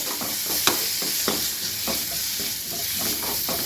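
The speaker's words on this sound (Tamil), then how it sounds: "தக்காளி கொஞ்சம் வதங்குற வரைக்கும் கிண்டி விடலாம்." Steady sizzling of onions and tomatoes frying in a pan for egg masala, with repeated scraping stirs of a spatula at irregular intervals.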